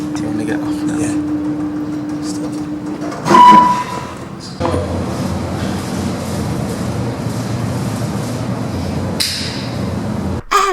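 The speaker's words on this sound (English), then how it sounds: "And now let's go back onto the Barcelona metro." A Barcelona metro train carries passengers with a steady, loud rolling rumble throughout, broken by a short clank and a brief sharp sound partway through the ride.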